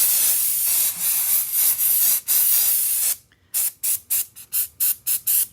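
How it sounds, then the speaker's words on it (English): An aerosol can hisses in long sprays, then in a run of short, evenly spaced bursts, close and loud. "I'm spraying straight down"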